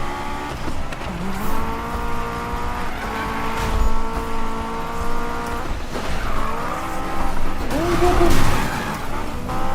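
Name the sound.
Honda S2000 drifting, tires skidding, Need for Speed video game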